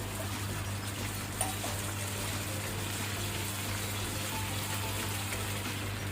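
Water is poured into a pan of lemon pepper chicken with curd, making a quiet, steady gushing rush over a faint background hum.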